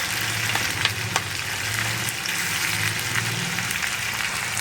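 Marinated chicken frying in a little mustard oil, a steady close sizzle and crackle throughout with faint stirring clicks, no voices.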